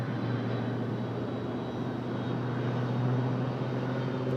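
A FedEx heavy jet at Raleigh-Durham airport idles at pushback, a steady low engine drone with a constant hum, fairly loud and unbroken.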